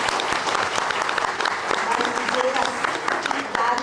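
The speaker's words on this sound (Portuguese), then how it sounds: "quero já pedir uma salva de palmas para elas" Seminar audience gives a round of applause, a steady wash of many hands clapping at moderate loudness, with voices mixed in beneath.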